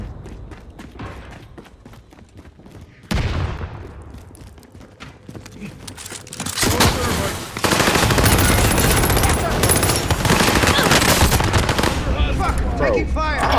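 In the Warzone video game, gunfire builds from scattered shots to loud, sustained machine-gun bursts and heavy firing, with game voice callouts mixed in.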